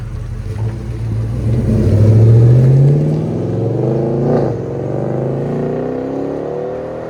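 A Dodge Challenger with an aftermarket exhaust and aftermarket hood drives off, its deep exhaust note climbing in pitch as it accelerates, peaking loud close by and then fading as it pulls away.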